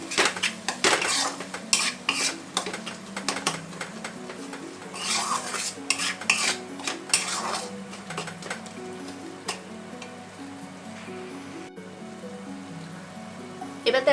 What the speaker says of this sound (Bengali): এবার এই মশলাটাকে ভালো করে এর সাথে আবার কষে নেব।